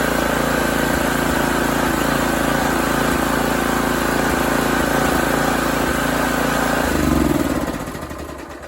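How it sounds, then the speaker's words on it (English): A Toro 22-inch recycler lawn mower engine idles after a carburetor cleaning, a loud, steady, close mechanical drone that holds evenly before its pitch shifts and the sound tapers off near the end. "it's idling much better"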